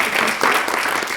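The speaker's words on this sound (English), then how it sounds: "can we just have a round of applause," Brief applause from a film festival Q&A audience, a dense steady patter of clapping throughout.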